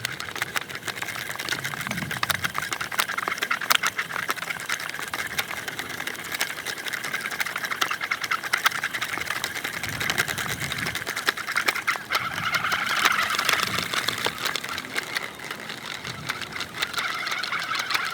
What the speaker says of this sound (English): I've set it up here on my little line spooler. 50-pound Spro, and look at this. It's going on evenly, it's going on tight.